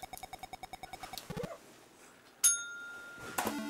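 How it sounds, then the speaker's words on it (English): An Atari 2600 video game plays a rapid run of evenly spaced electronic beeps, then a sharp bright bell-like ring and a few later chimes, with no talking. "Ring the bell."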